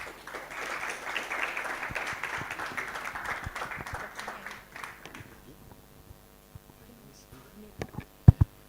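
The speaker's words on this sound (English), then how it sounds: "A round of applause for him as he comes on stage." An audience at a university innovation week event applauds continuously as a keynote speaker walks to the stage. The clapping fades out after about five seconds into near quiet, followed by a few sharp knocks and some talk.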